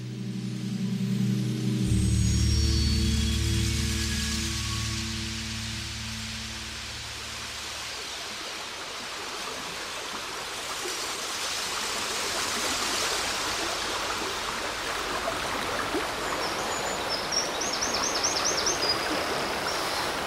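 A river flows steadily nearby, a broad continuous rushing of water that swells slightly and holds on alone after some low tonal sound fades out early.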